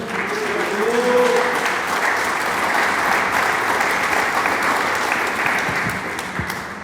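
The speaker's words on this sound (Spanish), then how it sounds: "Dele palmas al Señor." A church congregation claps hands together, a sustained, fairly loud wash of clapping from many people that swells early and keeps up evenly before tapering slightly at the end.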